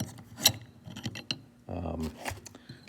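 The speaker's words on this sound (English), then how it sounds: "Let me take it apart real quick to show you. So you unscrew that, there's a little kind of keyhole where it comes out." A low angle hand plane being unscrewed and disassembled, with scattered metallic clicks, scrapes and rattles of parts handled up close in a quiet workshop.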